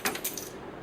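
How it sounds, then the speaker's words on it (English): A set of keys drops, giving a quick cluster of small metallic jingles and clinks over about half a second, fairly faint and close, with no talk during it. "Damn, I dropped the keys."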